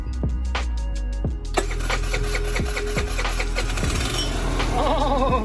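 A small motor scooter engine, freshly tuned with a new carburetor and spark plug, is pulled a few times, catches, and settles into a buzzing, uneven idle that stays loud and close.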